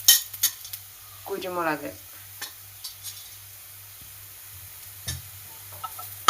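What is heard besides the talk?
stirring spice powders into puff filling in pan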